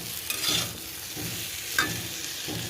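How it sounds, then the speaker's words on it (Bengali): Prawns are sautéed with spices in a pan for a Malabar spinach dish, with a constant sizzle and a regular rhythm of stirring strokes heard up close. "এগুলো দিয়ে বেশ সুন্দর করে কষিয়ে নেব।"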